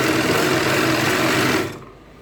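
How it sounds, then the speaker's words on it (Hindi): Sewing machine stitching ladies' pants with a side zip, a steady close whirring run that stops abruptly near the end, leaving low background hiss. "इस हिसाब से रख के सिलाई लगाएंगे।"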